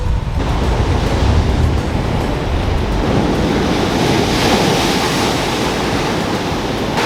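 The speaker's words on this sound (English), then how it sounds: "The water comes in and it crashes over and it does the same sort of champagne thing" Ocean waves crashing onto a beach on Fraser Island, a steady loud roar of surf and churning water close by, with wind buffeting the microphone throughout and no voices.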